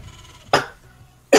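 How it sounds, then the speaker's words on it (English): Two sharp, close coughs separated by a short gap, a person hacking and choking briefly in a quiet room. "I just started coughing and choking, got too excited."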